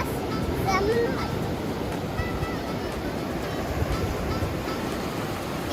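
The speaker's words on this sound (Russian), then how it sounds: "сегодня посмотрите, какие волны" Sea waves break on the shore as a constant roaring wash of surf with wind noise, and a brief voice is heard near the start.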